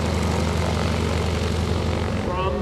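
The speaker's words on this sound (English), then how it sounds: "Greg's going to do a little bit of a wing over here, turn the airplane back around" An aerobatic propeller airplane flown by Greg Shelton at the 2017 Greenwood Lake Airshow turns through a wing over, its engine giving a steady, loud droning buzz throughout, with an announcer talking over it.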